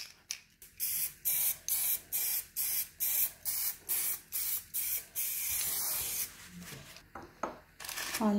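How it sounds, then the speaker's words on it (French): Aerosol velvet spray coating a raspberry and white chocolate Yule log, heard as about a dozen short, loud, evenly spaced hissing bursts, then one longer continuous spray and a few more bursts at the end, with no talking. "Ce vaporisateur ou cette bombe va donner un aspect de velours"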